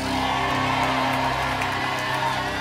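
Church congregation at a Wednesday night service whooping, shouting and cheering excitedly as a loud, dense crowd roar that holds steady throughout.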